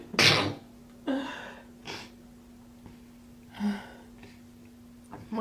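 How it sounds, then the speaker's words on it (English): Several sneezes from a person, a sharp loud one first, then softer ones spaced out over a few seconds, with breathy snorts between them. "More sneezes."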